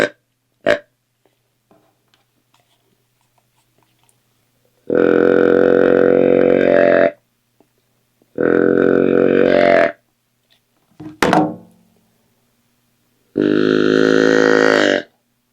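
An Illusion Hunting Systems Extinguisher deer call gives three drawn-out, low, buzzy buck grunts of about one to two seconds each, loud and close, with a couple of sharp clicks and handling knocks between them.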